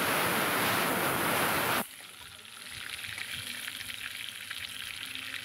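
Pointed gourd (potol) fries in hot oil with a loud, dense sizzle that drops sharply after about two seconds. A softer, steady crackle carries on after that.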